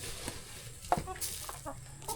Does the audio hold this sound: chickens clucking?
yes